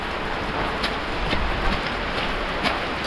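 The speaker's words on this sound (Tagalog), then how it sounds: "Lakas na yung ulan." Heavy rain pours steadily on a public cemetery during a rescue, a dense continuous hiss with scattered louder drops throughout.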